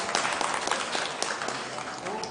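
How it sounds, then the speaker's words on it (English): An audience claps for the Puneri Yodhas team at a corporate quiz grand finale, a dense burst of applause filling the short moment with a voice faintly mixed in. "A big round of applause for the Puneri Yodhas"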